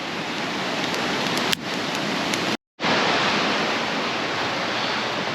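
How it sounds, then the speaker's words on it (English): A creek roaring beside a campsite, a steady loud broadband rush of fast water that fills the whole clip with only a brief dropout. "That creek's roaring."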